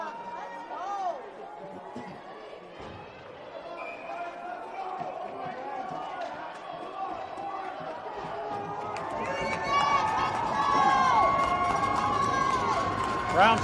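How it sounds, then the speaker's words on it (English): A crowd at a U16 youth ice hockey game, Flyers vs Generals, roars after a Flyers goal, a steady wash of voices that swells louder toward the end while a commentator talks over it. "The crowd's alive now."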